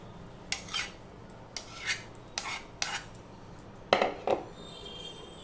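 Blended ripe mango pulp for mango papad strained through a metal sieve into a bowl, with a series of short scraping, rasping strokes of a spoon against the mesh, irregular and close, ending in a couple of sharper clinks.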